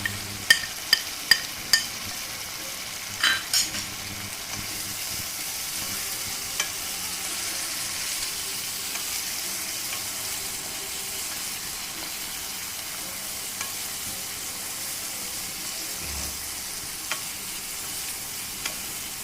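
Mutton for a doi roast sizzles in a pan as chili, cumin and coriander powder are stirred in, opening with several sharp utensil clinks and then a steady, close frying hiss with occasional scrapes.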